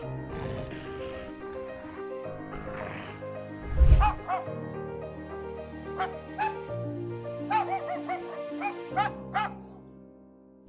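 A Yorkshire terrier being attacked by a coyote in a residential area gives a burst of sharp barks and high yelps, with a heavy thud near the middle and clustered cries toward the end.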